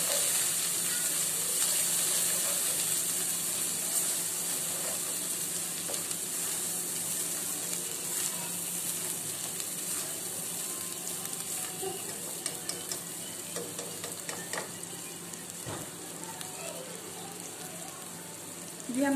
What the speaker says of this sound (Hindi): हम अपने मसाले भूनेंगे।